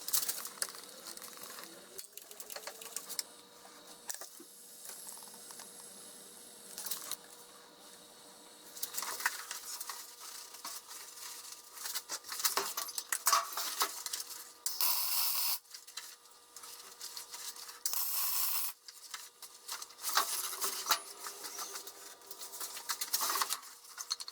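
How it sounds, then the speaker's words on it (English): Welding a spare tire mount onto a rebuilt tandem axle trailer: bursts of crackling, sputtering arc noise come in uneven stretches, with quieter gaps between the welds. "Now we're going to weld it on the back side"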